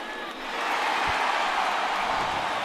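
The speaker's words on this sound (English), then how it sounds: "Crowd loves that one" A baseball crowd at Rogers Centre roars after a home run, swelling quickly into a broad, sustained cheer that stays loud to the end.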